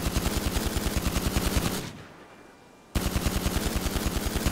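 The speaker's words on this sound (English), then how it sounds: "I'm just mag dumping a wall or something, who knows" Rapid automatic gunfire in GTA 5, a loud sustained burst of evenly spaced shots that cuts out for about a second before another equally dense burst resumes.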